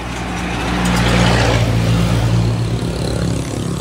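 A car drives past on the road right beside a house, its engine swelling loud and close as it nears, then easing away under a constant traffic rumble.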